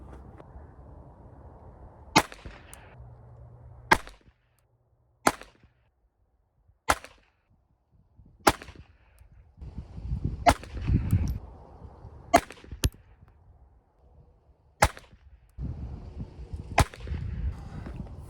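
Browning Baby 1911 pistol in .22 Long Rifle firing roughly nine sharp, cracking shots spaced a second or two apart, each loud and crisp, with low rustling and handling noise between them.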